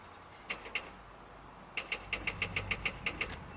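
A 2005 Chevy Trailblazer with a newly replaced alternator tries to crank over, giving a fast, even train of sharp mechanical pulses at a moderate level after a brief first attempt, without firing into a steady run.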